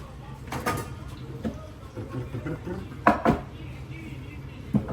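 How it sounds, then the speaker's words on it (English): Carrots and other vegetables for beef stew are handled and cut in a kitchen, with scattered knife knocks, clinks and a few sharp thuds under intermittent talk. "now gotta cut all of this up"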